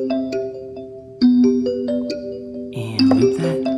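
An incoming-call ringtone from an OPPO smartphone plays as a bright synthetic melody of chiming notes, loud and close with no voices, swelling into a denser, layered burst near the end.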